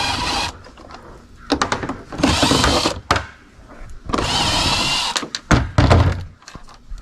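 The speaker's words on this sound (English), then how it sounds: "Let's start removing these screws here." Screws being removed from a Ram 2500 headlight assembly: close, bursty whirring from a power driver alternates with brief pauses and a few clicks and clunks.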